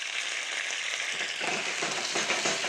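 Sherry vinegar hits a hot pan of caramelized veal and erupts into loud, close sizzling with bursts of crackle and hiss, while a utensil stirs and scrapes through the bubbling liquid.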